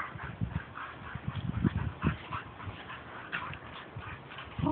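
Dogs out on a walk whimper and yip in short, scattered bursts, close by and moderately loud, with footsteps and street noise around them and no talking.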